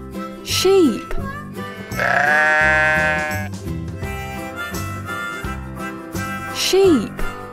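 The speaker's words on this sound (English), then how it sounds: "Sheep." A sheep bleats in the middle of lively children's music, with two quick wavering calls near the start and end and a longer bleat in the middle, all mixed with the song.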